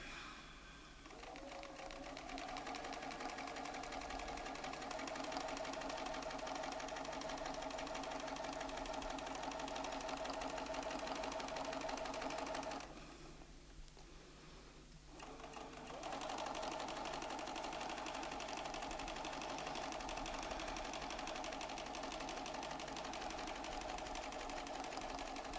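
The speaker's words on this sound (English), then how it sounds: "So now I'll be able to sew that template, that petal in here" A Bernina sewing machine stitches fabric along a ruler template, a steady fast mechanical whir that pauses briefly partway through and then resumes, close and alone.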